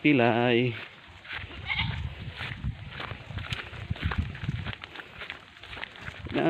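A goat being herded at pasture gives a loud, wavering bleat at the start, followed by softer rustling, footsteps and movement of the herd, with a person's voice in the background.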